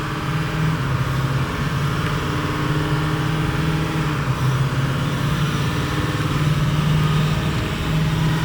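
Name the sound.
truck engine exhaust leak hissing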